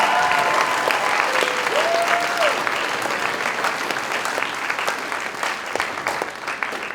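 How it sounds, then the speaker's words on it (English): A large audience at a high school pops concert applauds warmly, a loud, dense wash of clapping that holds steady and then thins slightly toward the end, with a few faint tones underneath. "I'm gonna give a round of applause for these amazing people and friends"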